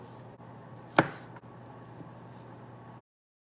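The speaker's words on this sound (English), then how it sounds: "now it just says to mince the garlic, so I'm gonna do that quickly" A knife mincing garlic on a cutting board at a home stove, with one sharp, close chop standing out over a quiet steady hum and a few faint taps around it.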